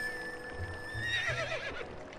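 A horse in Zelda: Twilight Princess HD answers a whistle call with a loud whinny, followed by a short run of clip-clopping hooves, close and clear against a faint game background tone.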